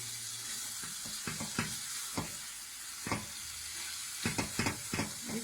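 A spoon stirs tomato paste and salt in a pan for chicken korma, making scattered scraping knocks over a soft, constant sizzle, close by and without speech.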